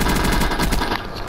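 Rapid automatic gunfire from a Black Ops 3 multiplayer match, a loud, dense burst of shots in quick succession that tails off toward the end, with no talk over it.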